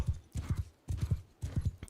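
Horse hooves galloping in the video game Bannerlord, a fast clip-clop rhythm in three quick bursts, close and moderately loud, with no talk.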